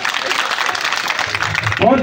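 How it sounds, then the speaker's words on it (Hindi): A crowd at a political gathering of tribal youth in Rajsamand claps, a dense burst of many hands at close range, with a voice breaking in just as the clapping ends. "तालियां बजाओ उनके लिए यार"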